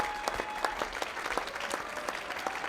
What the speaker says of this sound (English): The crowd got crazy and he's closing with another of his strikes.